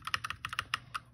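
Quick uneven clicks of typing on a computer keyboard about three years old, clear and close with no talk.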